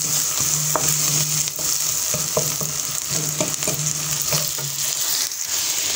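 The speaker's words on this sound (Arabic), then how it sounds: "غادي غير نشحرها واحد شويه" Vegetables sauté with an onion, black pepper, salt and coriander mixture, giving a steady close frying sizzle with occasional stirring scrapes and taps, no talk.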